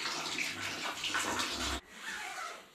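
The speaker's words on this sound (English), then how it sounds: "It's pee time." A person urinates inside a cold prison cell, giving a close, steady trickle of liquid splashing into water that stops abruptly, followed by quieter dripping and faint residual splashing.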